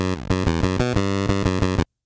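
An NES-style square wave at a biting 12% pulse width plays a power chord with both voices on the same note, F4, as a buzzy chiptune tone pulsing rhythmically for nearly two seconds before cutting off abruptly.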